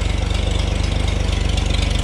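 A Farmall 560 gas tractor engine runs steadily at idle, close by and loud, with a fast, even low-pitched pulse throughout and no talking.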